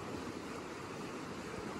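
Hat Creek flowing beside Highway 44 at an RV resort, a steady broadband rush of running water with no breaks, heard close and fairly soft.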